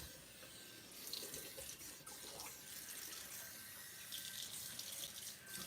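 Tap water runs steadily into a sink during kitchen cleaning, a continuous broadband hiss with splashy fluctuations that swells slightly near the middle and end.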